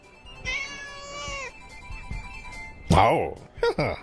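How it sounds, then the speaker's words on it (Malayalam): A cartoon kitten gives a drawn-out, high meow, then a few quieter cries, followed by louder, rougher mewing near the end. "എന്റെ പൂച്ചക്കുട്ടി"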